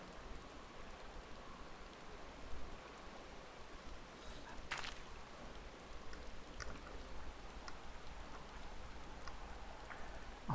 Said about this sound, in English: Amidst the sound of falling rain, your voice called from within.